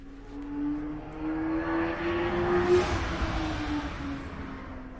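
A fast vehicle sweeps past outside a workshop where a pre-war Riley Brooklands is being welded, its engine drone rising to a peak then fading away, heard alone without talk.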